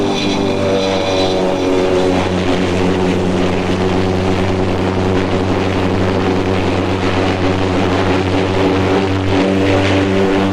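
Fairey Gannet carrier aircraft landing, its propeller engine droning loud and steady with a strong low tonal hum that holds throughout, no voices.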